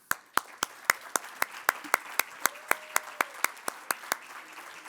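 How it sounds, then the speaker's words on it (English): Board members are applauded at a summit's closing plenary in a series of sharp, evenly spaced single claps, fairly close and distinct, as if from a few people rather than a full crowd. "just so we can give you an applause"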